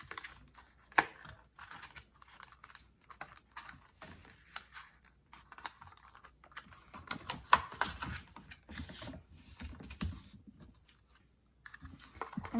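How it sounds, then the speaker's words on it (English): Orange paper for an Easter craft is accordion-folded back and forth, giving soft, irregular crinkles, creases and papery taps close by with short pauses between folds, and no voices. "we're going to turn it into a carrot by folding back and forth"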